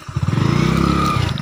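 A motorcycle stuck in mud during rainy weather revs hard in fast repeated bursts, its engine loud and close, with a clattering edge and no talking.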